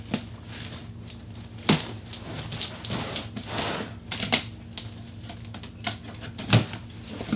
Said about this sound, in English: Nothing like cutting tape on boxes to make the day